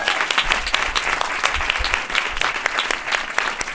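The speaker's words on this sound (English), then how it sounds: "let's give Per a round of applause already" Audience applause at a live performance event: dense, continuous clapping from many hands, fairly close and loud, holding steady throughout without speech over it.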